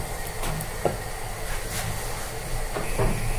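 A steady hissing bubble of caramel boiling in a pan on the stove, with a few faint clicks and knocks scattered through, no voices.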